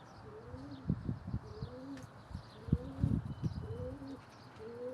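Pigeons coo in soft, repeated rolling calls, several birds overlapping at close range, with faint chirps and a brief rustle in between, in a Turkish pigeon loft with young birds.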